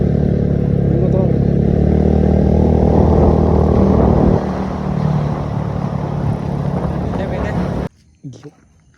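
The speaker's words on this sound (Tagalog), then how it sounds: "May motor sa likod." A motorcycle passes close behind on the road, a loud engine rumble that fades after a few seconds and then cuts out, with people talking over it.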